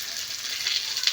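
Potato pieces fry in hot oil with salt and turmeric while cabbage with prawns is being cooked, a steady close sizzle with soft crackles through the brief moment.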